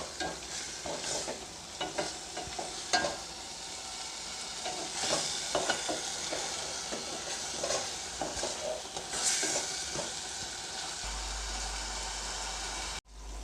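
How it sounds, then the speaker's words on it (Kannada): Pasta masala with vegetables being stirred in a pan over a medium flame, giving a continuous bright sizzle with scraping and clinking of the spoon against the pan, close up, with no voices. "ನಾನು ಮೀಡಿಯಮ್ ಫ್ಲೇಮಲ್ಲಿ ಇದನ್ನ ಮಿಕ್ಸ್ ಮಾಡ್ತಾಯಿದ್ದೀನಿ"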